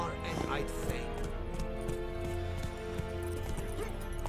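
A horse gallops in The Witcher 3: Wild Hunt, its hooves drumming in a steady rhythm under in-game music and ambience, while a voice talks over it.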